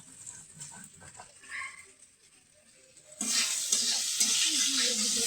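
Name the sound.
potatoes frying in a pan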